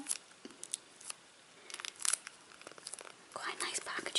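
Packaging from a magazine freebie is handled up close, giving bursts of crisp crinkling and rustling with brief quiet gaps between them.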